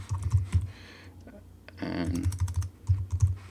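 Quick bursts of clicking on a computer keyboard, close and fairly soft, with a pause in the middle and a brief spoken word.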